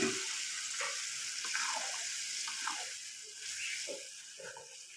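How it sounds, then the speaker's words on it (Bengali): Boiled potatoes stirred into cooked-down spice paste in a pan for a fish curry, a soft frying hiss with light scraping and wet stirring sounds, close and fairly quiet. "আলুটাকে মশলার সাথে খুব সুন্দর করে ভালো করে নেড়ে নেব"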